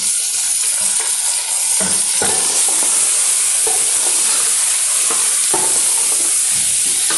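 Meat sizzles loudly in a pan with onions and ginger-garlic paste, a constant hissing fry with faint stirring knocks underneath.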